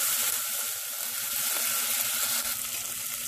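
Garlic and ginger sizzle and fry steadily in a hot pan for a spicy Punjabi mashed turnip dish, a continuous close crackle with a soft stirring scrape partway through and no talking.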